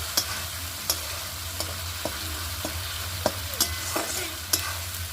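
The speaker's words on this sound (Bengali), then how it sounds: "মশলাটা ভালো করে কষিয়ে নিয়েছি।" Spice masala for bottle gourd kofta fries in oil, a continuous sizzle broken by sharp spatula scrapes and taps at an uneven pace, close and fairly quiet.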